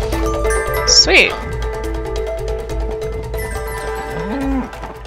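A synthesized cow moo from the video game It Takes Two sounds once amid game music and chimes, with a voice talking over it.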